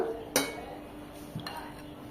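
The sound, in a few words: stirring pitha batter in a bowl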